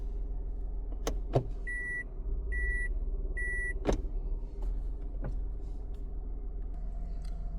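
A car's reverse warning sounds three evenly spaced electronic beeps inside the vehicle, with clicks and thumps and a low engine hum underneath.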